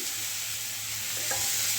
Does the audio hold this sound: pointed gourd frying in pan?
yes